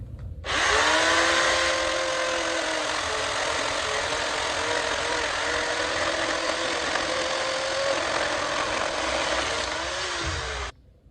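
Electric chainsaw cutting a wooden block being trimmed for an eagle carving, a loud steady whine held for about ten seconds with slight pitch dips as the chain bites, then stopping abruptly.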